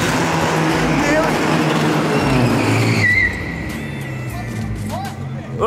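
Chevette car drifting, engine revving hard with tires squealing and skidding, loud and close, then dropping off sharply into quieter engine noise; people talk throughout.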